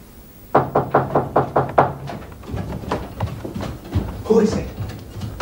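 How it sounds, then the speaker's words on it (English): Someone knocks on a door at night with about seven quick, evenly spaced raps. Voices follow right after the knocking. "Who knocks at this hour?"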